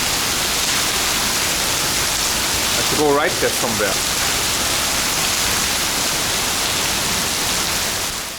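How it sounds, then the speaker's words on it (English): Heavy tropical rain pours down in Singapore, a loud, dense, unbroken hiss that lasts throughout, with someone speaking briefly over it. "You can see here how it rains here dramatically, pouring down here everywhere."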